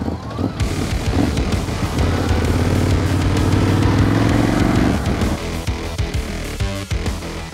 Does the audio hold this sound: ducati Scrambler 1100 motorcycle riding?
yes